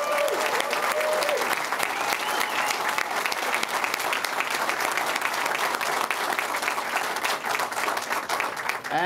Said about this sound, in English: Let's give Brad another round of applause.